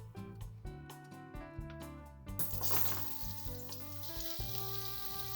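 Zucchini and garlic stir-fry in sesame oil, a dense hiss of frying that swells and stays steady after a tonal, music-like opening, heard close without speech.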